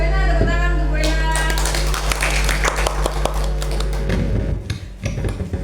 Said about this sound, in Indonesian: tepuk tangan untuk Bu Ena.